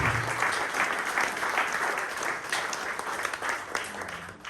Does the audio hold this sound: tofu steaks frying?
no